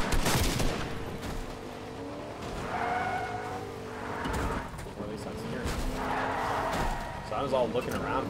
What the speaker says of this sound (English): looking around for the gunfire